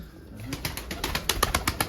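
Pigeons at a bird loft in Erzurum give a close run of soft, rhythmic coos and flutters, repeating steadily in short pulses with no talking.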